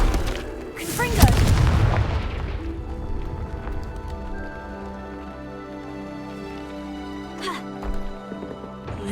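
A loud booming fire-spell explosion in Hogwarts Legacy bursts near the start, then fades into a sustained musical game score with a fainter later hit.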